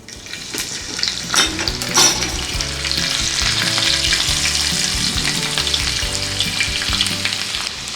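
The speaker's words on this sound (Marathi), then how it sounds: "आता हा लसूण आपण सगळा सोनेरी रंगावर परतून घेणार" Chopped garlic, with cumin and asafoetida, fries in oil in a pan for Maharashtrian pithla, giving a steady, close sizzle with a few sharper crackles and light stirring throughout.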